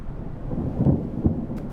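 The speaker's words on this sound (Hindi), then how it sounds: "अब तो बारिश भी हो रही है, मेरी गलती नहीं है।" Low rumbling thunder rolls under steady rain, with a couple of swelling booms in the middle. No voices are heard.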